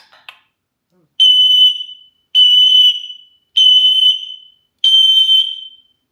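A parrot imitates a smoke alarm, producing four loud, piercing, evenly spaced electronic-style beeps, each lasting about a second with short silent gaps between, clear and close with no talking.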